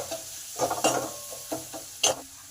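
Spices and softened tomato sautéing in a pan, a low steady sizzle under a few sharp scrapes and stirs of a utensil against the metal, close and moderately loud.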